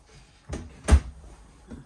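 Refrigerator door opening in a 2024 Forest River Sierra 4003MB mid-bunk fifth wheel, a soft clunk followed by a louder thud of the door seal releasing, close by in a quiet interior.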